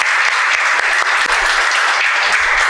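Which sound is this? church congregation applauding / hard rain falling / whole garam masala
church congregation applauding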